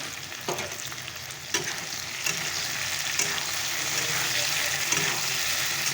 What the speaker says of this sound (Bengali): মাছগুলো ভাজা হয়ে গেছে মাছের ঝোলটা বসিয়ে দিয়েছি